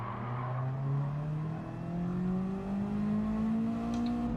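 Race cars in an online racing video game, around Sebring with a white Miata, drone close by with rising engine tones as they accelerate, and a faint scrape near the end where two cars touch.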